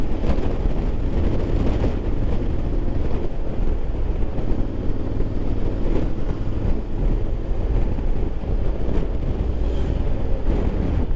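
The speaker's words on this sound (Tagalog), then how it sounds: "Hangin mga kabosby, ang hangin," Strong wind roaring and buffeting a microphone continuously at the Pacific View Deck in Dingalan, a loud low rumble with no voices.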